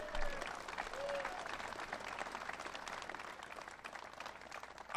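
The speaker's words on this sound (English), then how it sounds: "Let's give another round of applause for Governor Shapiro." An audience applauds Governor Shapiro at a morning public event in Berwick, sustaining a dense, even round of clapping from many hands throughout, with a brief voice sound near the start.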